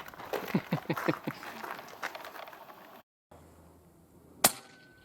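A Hatsan Hercules air rifle fires and its pellet strikes a plastic jug outdoors, making one sharp, loud crack near the end. Brief laughter and voices come earlier, followed by a moment of silence.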